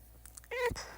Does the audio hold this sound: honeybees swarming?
no